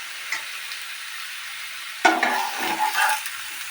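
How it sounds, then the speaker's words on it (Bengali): Raw jackfruit pieces frying lightly in a pan, a soft steady sizzle that jumps louder at the midpoint as the pieces are stirred and scraped, with brief bursts of movement toward the end. "বন্ধুরা হালকা করে ফ্রাই করতে হবে, বেশি ফ্রাই না।"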